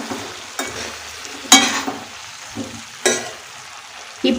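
A cauliflower side dish is stirred in a pan on a low flame, a soft sizzle underneath with a few distinct scraping strokes of a spoon, close by and no talking.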